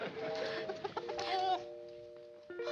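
A small rooster clucks and chatters in short, close calls, with brief pauses between bursts of soft, tonal clucking.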